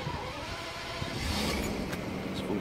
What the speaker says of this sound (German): Wir lassen den Motor jetzt einfach mal an.